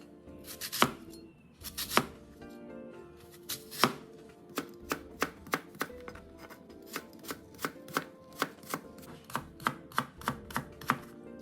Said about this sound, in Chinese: 红苹果1个，一样切成粗丝